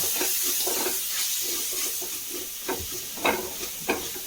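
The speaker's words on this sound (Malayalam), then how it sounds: "അതെല്ലാം കൂടി നന്നായി ഒന്ന് ഇളക്കി കൊടുക്കാം." Ingredients being stirred in a frying pan for a breakfast or dinner dish, with a steady sizzle underneath and scattered scraping clinks of the spoon against the pan, close and fairly loud, no talking.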